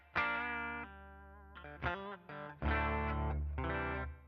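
An electric guitar played through an Atomic Ampli-Firebox with distortion and reverb rings out in a few sustained chords and short phrases, each decaying into a reverberant tail, with no talking.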